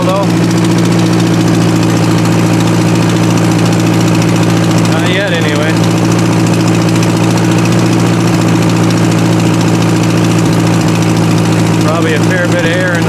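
An old Farmall tractor engine idling steadily and loudly up close, a constant low rumble with slight knock, running on fuel left in the carburetor; brief voices are heard over it.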